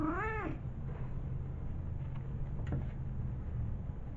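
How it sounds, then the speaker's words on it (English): A cat lets out a single clear, rising-and-falling meow at the very start, close and distinct, then falls silent against a steady low background hum. "Kitty cat."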